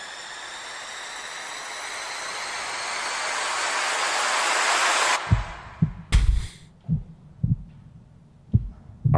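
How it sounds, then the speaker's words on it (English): Heartbeat thumps in a played song, heard as a series of low, muffled beats coming at a steady pulse after a rising, sustained whooshing swell cuts off abruptly. "got a heartbeat going here"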